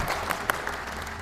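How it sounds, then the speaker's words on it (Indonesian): A classroom of students claps for a classmate in a short burst of scattered, close applause lasting about a second. "Kasih aplaus untuk Yaskur."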